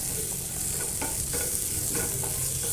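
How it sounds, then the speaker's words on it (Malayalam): Masala with lemon juice sizzles steadily as it is stirred in a hot pan, with soft scraping strokes over a continuous frying hiss. "എന്നാൽ അതും കൂടി ഒന്ന് നന്നായിട്ടൊന്ന് വഴറ്റി കൊടുക്കാം"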